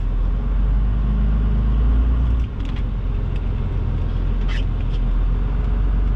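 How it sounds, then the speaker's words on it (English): A pickup truck engine rumbles low and steady while stuck, then keeps droning as four-wheel drive is engaged, a close continuous drone with a brief dip partway and no talk. "But I'm stuck. I ain't moving. So now I have to use 4-wheel drive."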